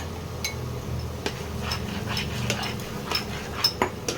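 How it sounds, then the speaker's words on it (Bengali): Spice paste fries in oil in a pan while a utensil stirs and scrapes it, with a steady low sizzle under sharp, irregular metallic clinks and knocks from the spoon against the pan. "এবার ভালো করে মশলাটাকে কষিয়ে নিতে হবে"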